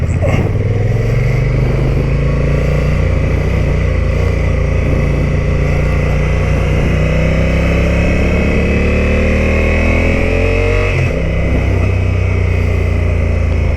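A Honda touring motorcycle engine runs loud and close, its steady rumble slowly climbing in pitch as it revs, then dipping briefly near the end before carrying on.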